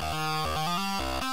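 A driven, saturated synth lead in a trance style plays a short stepping melody of about eight sustained notes, loud, bright and buzzy, heard alone.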